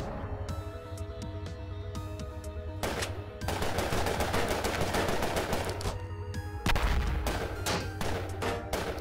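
Rapid bursts of automatic gunfire rattle repeatedly in the video game Cortex Command, loud and close over a looping synth music track, with no talking.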